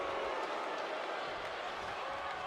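A steady, wide wash of crowd noise rolls through the arena in WWE 2K20 during a Money in the Bank match, sounding like constant cheering at an even level for the whole stretch.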